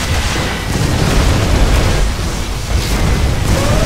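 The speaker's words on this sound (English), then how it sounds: "Particle cannon activated." Particle cannon blast and explosions in the Command and Conquer Generals video game, a continuous loud, dense rumble of booming detonations that stays steady for the whole stretch with no voices over it.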